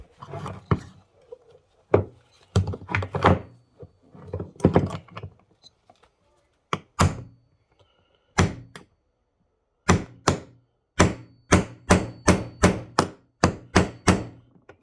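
Sharp metallic hammer blows drive a 4 mm punch against a pedal pin on a Subaru Legacy GT during a Spec B pedal swap, starting as scattered strikes, then falling into a steady run of a dozen evenly spaced close, loud taps.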